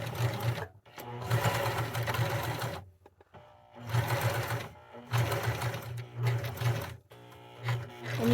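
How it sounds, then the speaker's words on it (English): A domestic sewing machine stitches the back of a fabric bow onto a summer headband, running in several whirring bursts separated by brief pauses, close and clear. "I'm going to sew the back of the bow onto the headband with my sewing machine"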